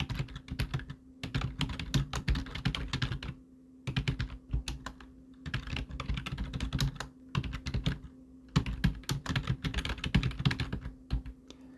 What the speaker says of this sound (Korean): 제가 무작위로 한번 입력해 볼게요